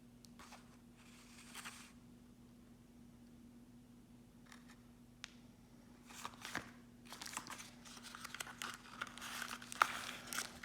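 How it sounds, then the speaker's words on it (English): Small plastic bags crinkle and rustle while an Amazfit Band 5 fitness band is unboxed, quiet bursts of crackling that grow busier and louder toward the end. "Everything seems to be wrapped in these little plastic bags."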